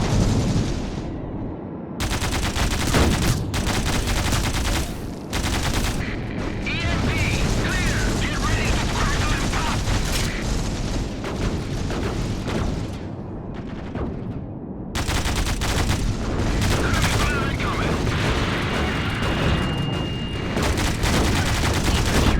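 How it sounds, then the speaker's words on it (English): Bursts of gunfire in a zero-gravity tactical shooter video game as the player is shot in the back, rapid automatic fire and mechanical clatter running almost continuously at close range, with game noise throughout. "Oh, getting shot in the back."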